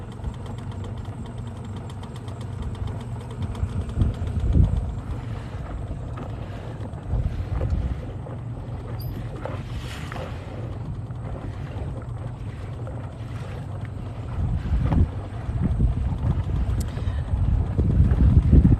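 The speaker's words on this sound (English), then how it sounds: "This wind sucks." Steady wind buffeting a small boat out on the water in the Florida Keys during a bully-netting trip for spiny lobsters, with a low engine rumble underneath and gusty swells that grow louder toward the end.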